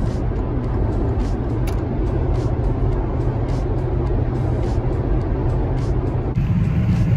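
Steady low rumble of a car driving along the road, engine and tyre noise constant and close throughout, with faint ticking and a slight change in tone near the end.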